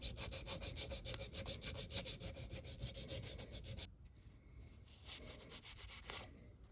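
A coarse sharpening stone rubs a burr off a part of a Brown & Sharpe universal dividing head: rapid, rhythmic close-up strokes, loud at first, then after a brief pause softer, sparser rubbing.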